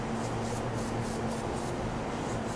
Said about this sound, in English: we're just gonna spray some reducer on